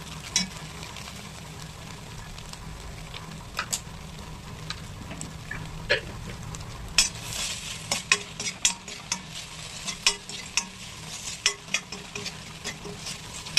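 Cauliflower 65 with tomato and salt being stirred and fried in a pan: steady close sizzling with scraping stir strokes that turn into frequent sharp clicks and taps toward the end, no voices.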